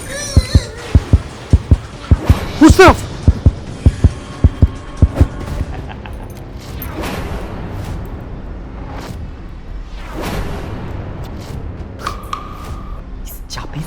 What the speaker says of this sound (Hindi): प्रेरणा, मुझे तुम्हारी दिल की धड़कनें सुनाई दे रही है।